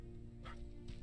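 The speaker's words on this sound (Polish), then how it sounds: "Słyszałem psa?" Dog barking in the video game Terminator Resistance: two short, faint yips spaced about half a second apart, set over a steady low ambient hum.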